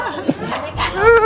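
A man imitates a dog by barking with his voice at a small white dog on a Bangkok street, giving a few short, close, throaty woof-like bursts in quick succession.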